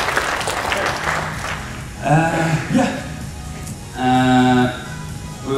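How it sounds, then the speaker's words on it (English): Crowd applause at an anime convention stage fighting workshop rises in a few short bursts over a noisy room with overlapping chatter and sustained tones, loudest near the end. "A round of applause for the Assassin's Creed guys"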